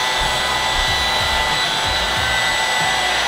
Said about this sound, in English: hair gets trapped in here, gets cut right here, and it sucks it up from right there, just like a vacuum